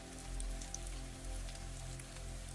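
Soft, steady rain falls around a greenhouse cottage, a faint, even patter with no voices.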